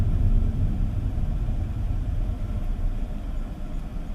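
Steady low rumble of road noise inside the cabin of a 2025 Hyundai Stargazer X with an IVT, a continuous moderate drone of tires and engine while driving, with no talking.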